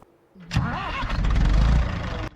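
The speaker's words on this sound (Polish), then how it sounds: "Ale ładnie odpaliła, widać, że silnik zdrowy." An old tractor engine cranks briefly, then catches and chugs loudly for about two seconds before cutting off abruptly.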